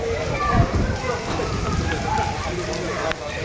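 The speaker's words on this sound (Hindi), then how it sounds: "काफ़ी ज़्यादा तेज़ बारिश भी आ रही है" Heavy rain pours steadily in a dense hiss during a storm in Multan, with a voice talking over it much of the time.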